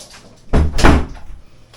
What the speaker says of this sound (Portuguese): Vou abrir aqui a porta para a Frida sair, minha cachorrinha.